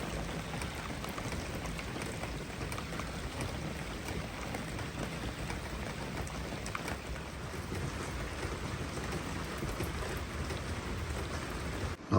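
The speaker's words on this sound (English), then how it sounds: "it's Saturday morning, steady rain, as was forecast" Steady Saturday-morning rain falls around a sailboat, a continuous even hiss of drops with no pauses, moderately faint and unbroken throughout.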